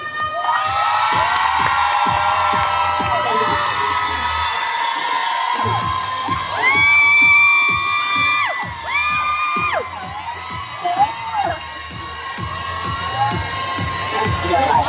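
A lively crowd at a product launch event cheers and shouts in welcome with whoops and excited high voices, loud and continuous, clapping and calls rising and falling throughout.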